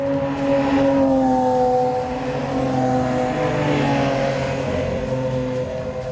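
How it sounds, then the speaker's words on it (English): A 2017 Lamborghini Aventador S V12 engine drones steadily with strong harmonic tones, holding a sustained high-rev note that eases slightly midway, loud and close with no talking. "When you talk about the power of this car, we're still talking about the same V12 engine."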